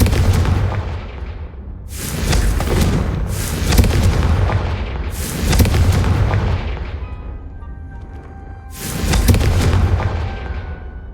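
Fiery Confringo blasting spells from the Hogwarts Legacy video game, four loud booming explosions in a row, each a heavy roaring burst spaced a couple of seconds apart, with rumbling tails between them and no voices.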